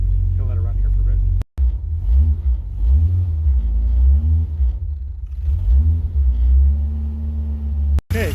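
A car engine with its vacuum hose off idles with a steady low rumble throughout, while someone talks over it; two brief dropouts break the sound.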